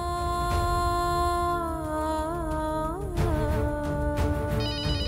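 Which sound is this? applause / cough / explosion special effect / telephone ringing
telephone ringing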